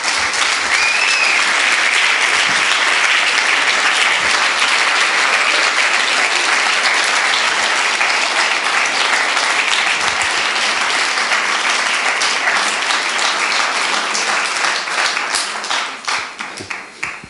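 An audience applauds after a talk, a dense, loud and sustained wash of clapping from many hands that holds steady for about fifteen seconds before thinning out.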